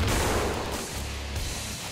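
Heavy gunfire in the video game Killing Floor, loud at first then easing slightly, a churning mix of shots and low booms running through the whole stretch.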